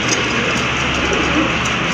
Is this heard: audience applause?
no